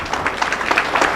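Applause from a conference audience at the opening of a World Press Freedom Day event in Kenya: brief, steady, dense clapping throughout, moderately loud, with no voices over it.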